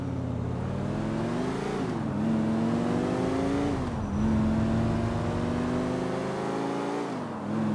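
A car engine hums and rises and falls in pitch as it accelerates and eases off while driving in Grand Theft Auto IV, steady and close with no speech over it.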